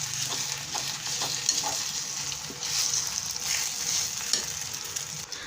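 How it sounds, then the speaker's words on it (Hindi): Semolina halwa frying in a pan while being stirred continuously, a steady close sizzle with scraping and stirring strokes running throughout, no speech. "इसको हिलाते रहिएगा वरना जो हमारी सूजी है वो साथ लगती रहेगी नीचे।"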